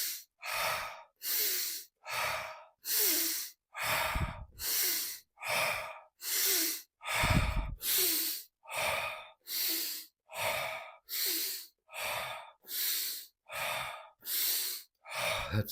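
Deep breaths go in and out in a steady, regular rhythm, about sixteen long airy breaths in a row, close and loud, with a few harder, rougher exhales.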